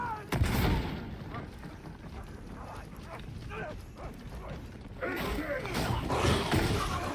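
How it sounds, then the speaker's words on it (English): Gunfire rattles in a firefight between two gang factions in Warhammer 40k: Darktide, with sharp shots near the start and a dense burst of rapid fire toward the end over a rumbling backdrop. "Gunfight between 2 pillar gangs, and I got caught in between."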